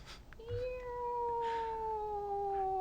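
A domestic cat gives one long, clear, drawn-out meow close by, the tone holding steady and sliding slightly downward. It sounds alone over a quiet room background.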